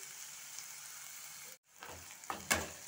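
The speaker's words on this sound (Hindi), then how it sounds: "प्याज को थोड़ा सा हल्का ब्राउन करते हैं।" Onions frying in a pan until lightly browned give a faint steady sizzle, then a brief cut followed by a few louder stirring scrapes and hisses near the end, quiet and close with no talk.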